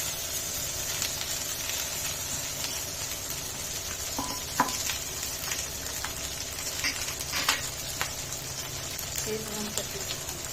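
Cooked rice stir-fried with vegetables in a pan for Schezwan fried rice, a steady sizzle with scraping stirs and occasional spatula clinks, close and continuous under a voice talking.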